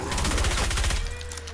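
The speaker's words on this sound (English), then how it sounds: "you've been shooting things this whole time" Rapid burst of gunfire in Fortnite, a loud, dense string of shots over about a second, then tapering into a quieter tail.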